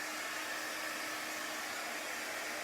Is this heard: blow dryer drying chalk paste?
yes